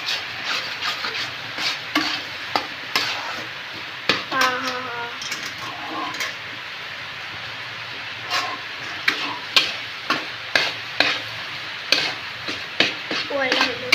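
Food being stirred and mixed in a pan, with repeated sharp scraping knocks of a utensil against the metal over a soft sizzle, coming in irregular bursts.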